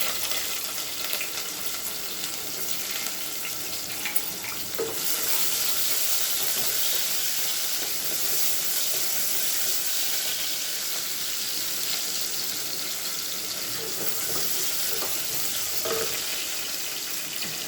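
Red onions frying in a pan for a goat head meat curry, a steady bright sizzle and crackle that holds for the whole stretch with occasional faint clinks.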